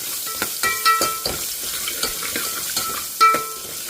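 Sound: onions cooking in a pan for sweet potato stew

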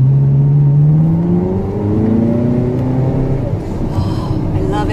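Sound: car accelerating as driver gives gas

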